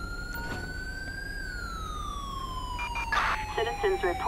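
In Grand Theft Auto V, an ambulance siren wails steadily with a slowly rising then falling tone over low traffic rumble, joined near the end by faint radio chatter and short electronic chirps.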